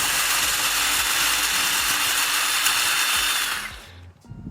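A power lawn edger scrapes along the ground to finish cutting a lawn edge, a loud steady high-pitched whine and grinding rasp running continuously before cutting off abruptly near the end.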